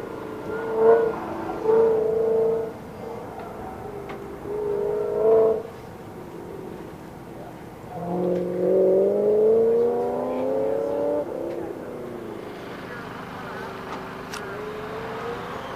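A Pontiac GTO runs an autocross course, its engine revving up and easing off in repeated bursts at moderate distance, with gear changes and surges between quieter stretches.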